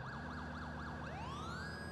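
An ambulance siren in GTA 4 wails in a rapid rising-and-falling yelp, then shifts into a long upward sweep, steady and fairly faint against a low engine drone.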